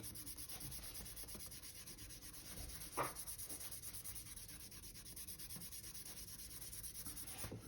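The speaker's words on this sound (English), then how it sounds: "now it's very important to give us a real good burnish. You want it to stick to the paper." Thin polymer clay sheet being burnished onto paper: a faint, steady dry rubbing that runs for several seconds on its own, with one slightly sharper scrape partway through.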